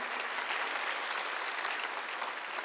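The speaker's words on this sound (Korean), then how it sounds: "박수 한번 주세요" A church congregation at a Sunday worship service claps together in a soft, steady, continuous patter that sounds somewhat distant and holds evenly for a few seconds.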